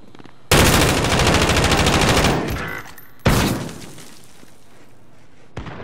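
Loud sustained machine gun bursts in the video game Call of Duty Modern Warfare: a roughly two-second rapid stream of shots, a pause with fading echo, then a second burst that tails off, with a sharp crack at the end.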